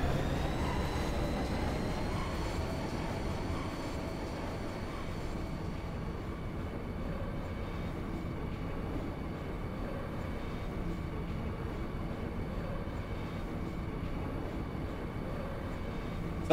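Steady rumble of a train running in Final Fantasy VIII, a continuous low drone with faint tonal hum that holds evenly for the whole stretch, loud and close with no break.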